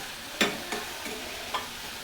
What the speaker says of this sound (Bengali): দিয়ে করলাটাকে ভালোভাবে ভেজে নিব